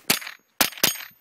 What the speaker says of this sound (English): Now we've got steel set up, just 3 shots on each steel.